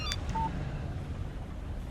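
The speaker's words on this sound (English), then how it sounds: "Text message from Barry." Text message alert from a phone in Alan Wake Remastered: a single short electronic beep tone, brief and clear over a low steady background hum.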